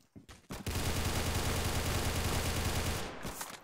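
Rapid gunfire from weapons in the Roblox game Arsenal rattles out as a dense, continuous burst for about two and a half seconds, then cuts off, with a few scattered shots on either side.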